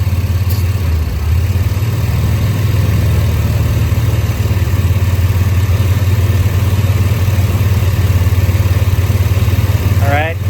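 A 1992 Chevrolet S10 pickup engine idles steadily up close, a continuous low rumbling drone held at an even level throughout with no revving.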